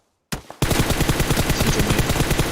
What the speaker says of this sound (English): Quick peeks from Peace with the 6 times on the M4.